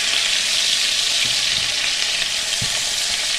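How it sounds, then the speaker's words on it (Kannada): Brinjal (eggplant) frying in a pan gives a steady, close hiss of sizzling oil throughout, with a couple of soft stirring knocks and no talking. "ಸ್ವಲ್ಪ ಫ್ರೈ ಮಾಡ್ಕೊಳ್ಬೇಕು ಬದನೆಕಾಯಿ."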